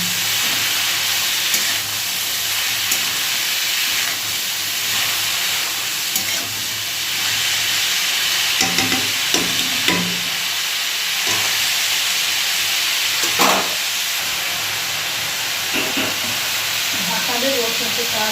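Chicken sizzles steadily in a hot pan while being stirred, a continuous hiss with occasional scraping and clinking of the spatula against the pan throughout.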